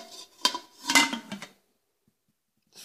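A few sharp metallic clanks and scrapes of a cooking pot lid being turned upside down, knob down, onto the pot, close by, followed by silence and one faint clink at the end.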